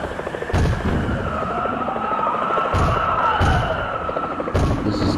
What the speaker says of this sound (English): They are still shooting you.